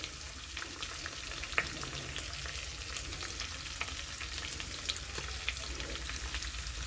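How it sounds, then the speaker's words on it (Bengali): Spice paste seasoned with salt and chili powder fries in oil in a pan, a steady close sizzle with soft crackles as the oil begins to separate, no voices. "মশলা এবার একটু ভালো করে কষিয়ে, এখনই তেল ছাড়তে শুরু করে দিয়েছে"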